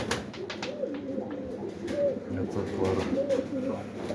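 Pigeons coo in soft, rolling, repeated calls nearby, over a faint background hum and a few light knocks.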